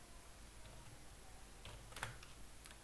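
Quiet typing on a computer keyboard while writing TCL script code, a few scattered light key clicks with one sharper tap near the middle, faint and close, with no talking.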